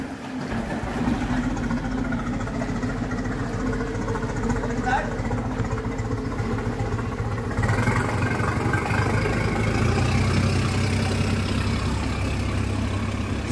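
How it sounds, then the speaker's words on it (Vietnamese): An Isuzu 6BG1 diesel engine running in a 7.7 m boat during a test run, a continuous deep rumbling drone that grows slightly louder and fuller midway, with voices talking over it. "xem lại cái cano 7m7 lắp cái động cơ isuzu 6B G1 này lúc mà mình chạy thử nha"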